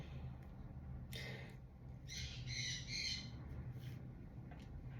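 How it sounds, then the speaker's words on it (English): A bird calls repeatedly outdoors in short squawking chirps, faint and at a distance, with a few bursts clustered together. "you hear how that bird just keeps chirp, chirp, chirp, chirp, chirping away?"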